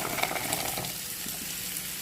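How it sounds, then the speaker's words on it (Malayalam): Grated coconut is tempered in a hot pan for a mango and drumstick curry, giving a loud, continuous sizzle with a sharper burst at the start that settles into an even frying hiss. "ഇതൊക്കെ നമ്മളിതാ ഈ തേങ്ങ തളിച്ചെടുക്കട്ടെ"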